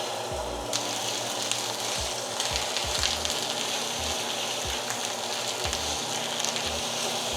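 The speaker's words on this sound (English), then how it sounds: "let's throw in the meat" Meat sizzles in a hot pan with olive oil, a steady crackling fry broken by frequent low thumps and clatters of cooking, close and fairly loud with no talking.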